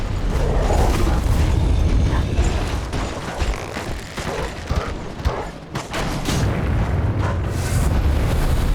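A blast goes off in the dark fantasy game Dark Souls III, with heavy low rumbling booms, grinding mechanical creaks and scattered impacts rolling through in waves, loud and close, with a brief lull midway before the roar resumes.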